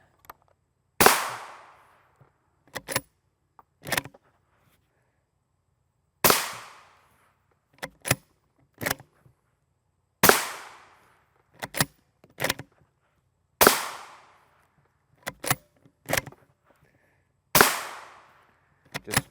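Rifle fire striking a Highcom Guardian NIJ Level IV body armor plate on an outdoor range: sharp, distant cracks heard one at a time and in quick pairs, each with a short echo decay, spaced over about twenty seconds with quiet gaps.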